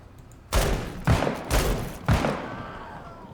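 Four heavy gunshots boom in the tactical video game Menace, each a loud blast with a rumbling decay, spaced about half a second apart, the last trailing off into a longer echo.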